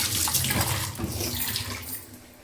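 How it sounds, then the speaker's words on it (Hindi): Ginger soaking and being washed in water to loosen dust and soil, with steady running water from a tap splashing into a sink, close and continuous without talk. "पानी में डाल के रखा है ताकि जो भी धूल मिट्टी हो सारी इसकी निकल जाए।"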